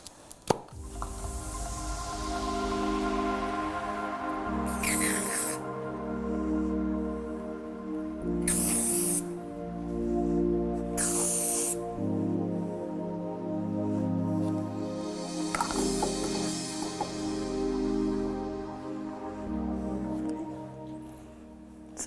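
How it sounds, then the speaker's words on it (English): Hairspray is sprayed onto a section of hair during a makeup effects workshop: three short, airy hissing bursts, spaced a few seconds apart, over steady background music. "onto that I'm just going to put a little bit of hairspray"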